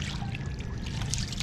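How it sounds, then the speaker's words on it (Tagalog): Water trickling and splashing as a paddle works a boat through calm sea water, a short close burst of sloshing liquid. "Nagsasagwan para mas mabilis kaming makarating."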